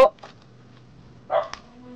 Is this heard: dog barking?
yes